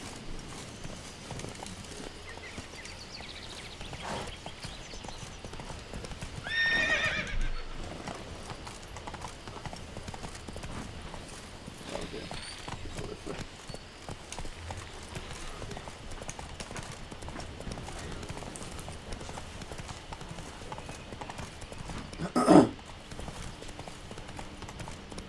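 Roach, Geralt's horse in the game The Witcher 3: Wild Hunt, clip-clopping steadily in a continuous rhythm throughout, with a brief louder burst near the middle and a sharper one near the end.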